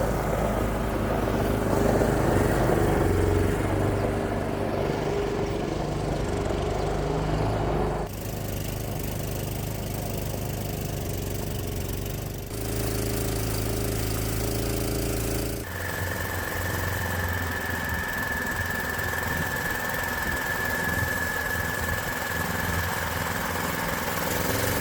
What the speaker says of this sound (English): The Predator-powered UTV seems to have no problem with the tongue weight, and it tugs the trailer no problem.